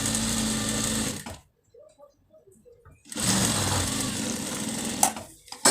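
A sewing machine stitches fabric in two loud, buzzing runs split by a short pause with faint handling sounds, the second run ending in a sharp clack.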